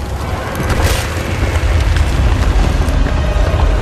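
A deep cannon blast booms in a pirate naval battle in Sea of Thieves, loud and rumbling with wind-like noise trailing after it, no talk over it.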